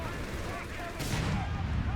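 Gunfire in the World War II strategy game Company of Heroes 3: a sharp, loud burst of shots strikes midway, with a steady rumble of battle around it.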